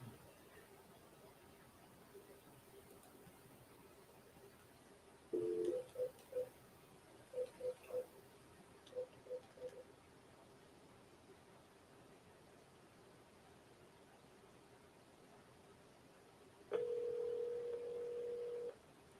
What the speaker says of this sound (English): Back to dialing.